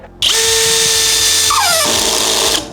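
A CD-201HBC Compact cordless drill-driver on first speed drives a screw into wood: a loud, close motor whine starts abruptly, holds steady, then sags in pitch as the screw tightens before stopping.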